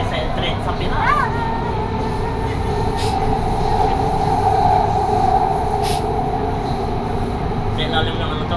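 Driverless Doha metro train running underground, a steady loud rumble of wheels and motors with occasional high squeals, while passengers talk over it.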